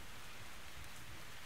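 Continuous rainfall in the game Metro Exodus, a broad, constant wash of drops that stays level and unbroken from start to finish, heard alone without talk.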